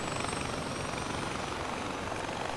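A helicopter in the video game Far Cry 4 flies in wind, its steady rotor thrum and engine drone loud and unbroken, with a faint high whine above it.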